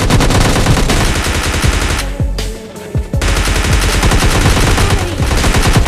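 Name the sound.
AWM sniper rifle shots in PUBG Mobile Lite video game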